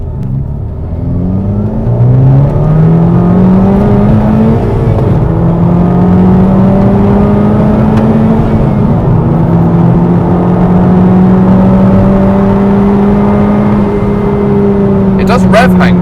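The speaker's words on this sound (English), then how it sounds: "It does rev hang quite a lot, doesn't it?" Modified Honda Civic Type R engine with a dual mass flywheel revving and hanging at high revs. It makes a loud, close drone that climbs in pitch and then holds steady for a long stretch, with voices talking over it.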